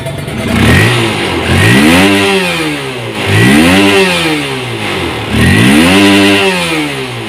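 A remapped Honda CB150 motorcycle engine revved hard to 12,000 rpm, three loud, close rising-and-falling rev cycles with a buzzing, raspy exhaust tone and no talk.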